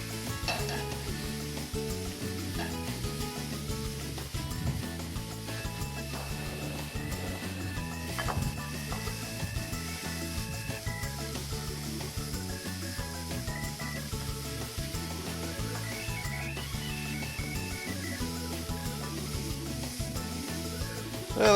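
Food sizzles in oil in a pan while being stirred, a steady close frying crackle with repeated scraping strokes running through the whole stretch, with a faint musical tone at times and no talk.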